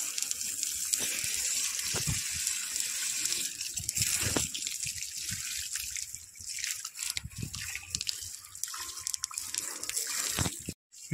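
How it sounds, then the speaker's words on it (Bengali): Water running steadily over an Apache motorcycle during washing, a continuous hiss and splash with small trickling changes, close by and with no talk. "দেখো আমার এমটিটাকে বাবা ধুচ্ছে, ঠিক আছে? দেখো এমটি ধোয়া চলছে।"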